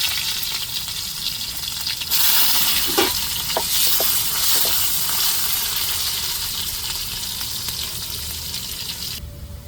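Shallots and curry tempering sizzle loudly in hot oil with a steady crackling hiss, a few sharper pops early on, then the frying settles into a continuous sizzle with no talking.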